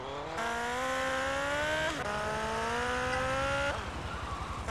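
In the video game GTA Vice City Stories, a vehicle doing wheelies gives a loud, close engine whine that rises in pitch, drops with a shift at about two seconds, climbs again and cuts back near the end.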